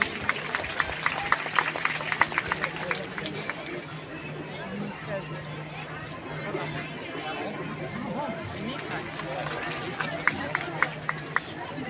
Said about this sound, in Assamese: সকলোকে হাত চাপৰিৰ সৈতে অভিবাদন জনাবৰ কাৰণে আহ্বান জনাইছো।